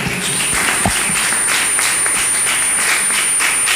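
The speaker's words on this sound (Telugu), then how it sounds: "గట్టి చప్పట్లు కొట్టి దేవుని స్తుతిద్దాం" A church congregation claps loudly in praise, a dense, steady wash of many hands that continues throughout.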